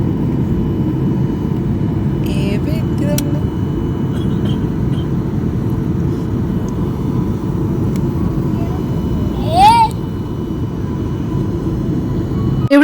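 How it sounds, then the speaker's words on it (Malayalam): A passenger airplane landing in Germany fills the cabin with a steady, loud engine and air roar that holds evenly throughout, with a brief faint chirp near the end. "പതിയെ പതിയെ നമ്മൾ ലാൻഡ് ചെയ്തുകൊണ്ടിരിക്കുകയാണ് ജർമ്മനിയിൽ"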